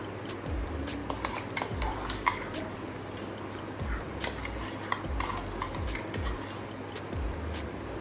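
A spoon stirs a mixture of mango puree, ground ice apple, cashews and milk in a bowl, giving soft wet squelches and light clinks against the bowl in a loose repeated rhythm, close by.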